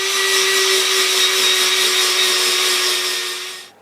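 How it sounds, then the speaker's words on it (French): A food processor grates potatoes, onion and garlic with a loud, steady motor whine and a constant grinding hum, then winds down at the end. "J'utilise ce robot magique moderne pour faire le râpage."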